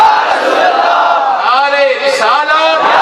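A large crowd at an Urs-e-Chehlum religious gathering roars a loud, unified chanted response to the Naara-e-Risalat slogan call, with massed voices rising and falling close to the microphone.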